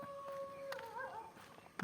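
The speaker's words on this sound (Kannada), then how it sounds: "ಒಂದು ನಾಯಿ" A single dog gives a short, faint howl-like whine that rises and wavers briefly, heard from a distance in quiet surroundings.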